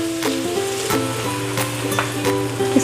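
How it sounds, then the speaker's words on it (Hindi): Ginger garlic paste and black cumin frying in hot oil, a steady close sizzle with periodic scraping stirs of a spoon through the pan. "इसको 1 मिनट के लिए मैं फ्राई करूंगी"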